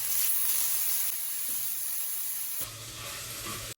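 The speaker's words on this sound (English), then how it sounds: "Once the oil is heated, I'll go in with my onions. Stir for a while. Go in with my pepper and stir to combine." Onions and pepper sizzle steadily in hot oil in a pot while being stirred, a bright continuous hiss close up, with a shift in texture partway through as stirring moves the vegetables.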